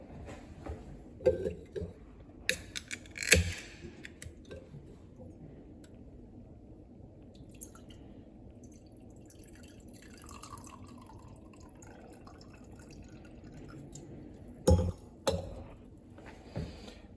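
A 250 ml can of Merf Chardonnay is handled and opened with a few sharp clicks and taps, then wine pours into a glass with a soft, rising liquid gurgle, heard close in a quiet room.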